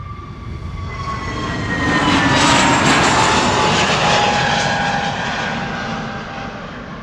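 Jet airliner departing Amsterdam Schiphol Airport, a loud sustained roar of jet engines that swells to a peak midway and slowly fades as the aircraft climbs away, with wind in the background.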